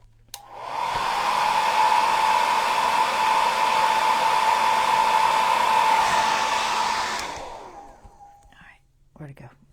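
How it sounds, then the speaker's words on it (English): A hair dryer blows steadily for about seven seconds to dry paint on a stenciled junk journal card, a loud, even whirring that switches off and is followed by faint handling noises. "Let me just blow that dry real quick"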